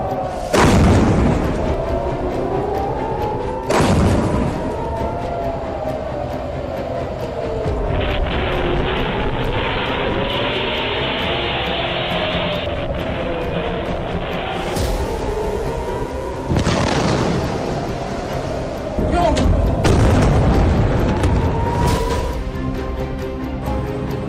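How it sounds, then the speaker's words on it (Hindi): Iranian missile strikes on Haifa in northern Israel: several heavy booms at intervals, while a wailing air-raid siren rises and falls steadily underneath. "ईरान के मिसाइल उत्तरी इजराइल के हाइफा शहर पर"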